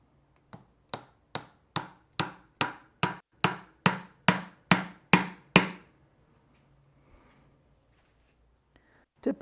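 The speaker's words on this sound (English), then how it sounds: "Typically, you'd use a hammer to get it close, and then you'd use a nail set to drive it in the last little bit" Hammer driving a nail into wood molding: twelve sharp, evenly spaced blows in a steady rhythm, close and loud, followed by near silence and a faint knock at the end.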